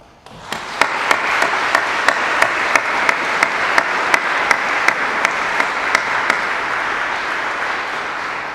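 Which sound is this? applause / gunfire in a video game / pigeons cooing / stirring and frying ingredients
applause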